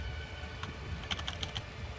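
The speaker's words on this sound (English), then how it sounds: "you're gonna hear my keyboard because my mic is right next to it" Clicks of a computer keyboard placed right beside the microphone: a few quick, crisp keystrokes over a steady background hum, with no talking.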